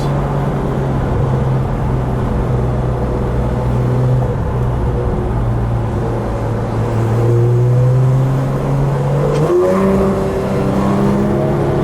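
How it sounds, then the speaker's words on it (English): A 2016 Porsche GT3 RS accelerates hard, its engine a loud, continuous drone climbing in pitch, with a strong rushing intake whoosh from the side air inlets filling the cabin throughout. "when you hear that air, yes, that's the the two big intakes on the side"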